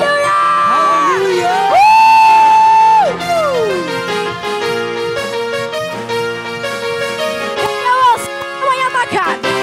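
A church congregation cheering and shouting during a worship service, loud and full, blended with sung worship and band music.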